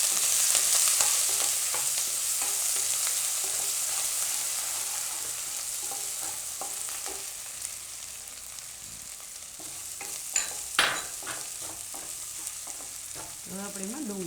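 Ginger, green chillies and garlic sizzle in hot oil with bay leaf in a pan, a loud steady fry that slowly fades, with scattered scrapes and taps of a stirring spoon toward the end.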